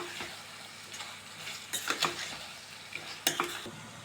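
Chicken is stirred in a frying pan over a soft background sizzle, with a handful of louder scraping and clinking strokes of a utensil against the pan spaced irregularly.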